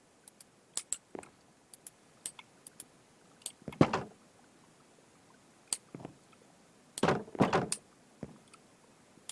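A big rotating door in the game Stoneblock 2 opens with sparse mechanical clicks and ticks, then two longer grinding scrapes, fairly close with quiet gaps between.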